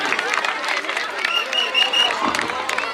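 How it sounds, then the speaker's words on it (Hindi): Audience applause and crowd noise welcoming kabaddi players at a Pola festival in Dhanora, Chhattisgarh, a steady wash of clapping and murmuring voices that holds for the whole stretch without letting up. "ताली से स्वागत कीजिए।"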